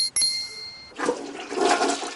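After a brief clink and a short pause, a household toilet flushes close by, a sudden rushing swirl of water that builds and keeps draining to the end.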